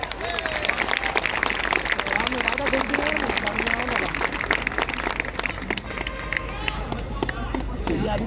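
Dense, steady applause from a crowd at an evening poetry recital in Lucknow, clapping and cheering mixed with crowd noise, loud and continuous throughout without a break.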